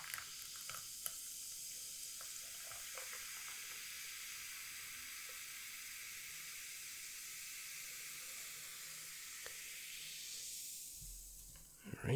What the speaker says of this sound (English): Some fizzy sounds for you.